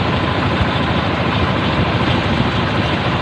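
A machine engine runs near an outlet where water is forced out under strong pressure, giving a loud, steady broadband roar with low rumble that continues unbroken throughout.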